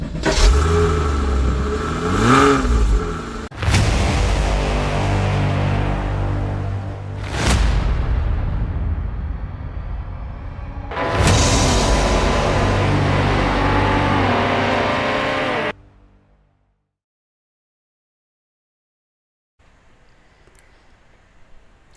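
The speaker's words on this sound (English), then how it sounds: "This is a 2002 classic Porsche Boxster in Starlight Silver." A 2002 Porsche Boxster in Project Motor Racing revs hard through several loud bursts with gear-change breaks, each climbing pitch, then cuts to near silence with a faint idle at the end.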